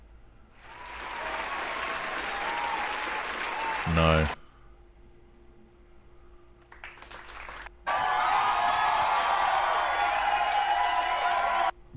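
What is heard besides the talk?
crowd cheering sound effect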